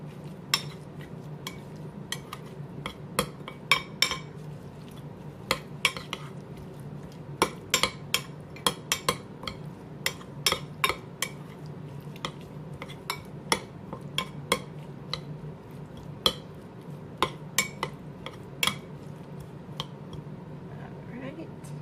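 Liquid aminos being stirred into a ginger garlic soy salmon marinade in a dish, a long stretch of light utensil clinks and taps against the dish, scattered and quiet over a low kitchen hum.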